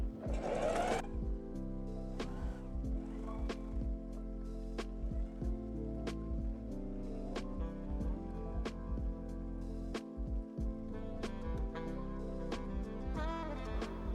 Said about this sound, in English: Adjust your needle, check if it's going well,